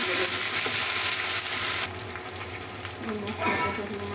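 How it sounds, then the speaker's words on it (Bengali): Onion, garlic and ginger-garlic paste fry with spices in a pan, giving a steady, close hiss and sizzle that drops slightly midway, with faint stirring scrapes and some background talk. "এখানে আমি একটা আদা রসুন বাটা দিয়ে এটা আমি মশলার সাথে ভালোভাবে ভেজে দেবো"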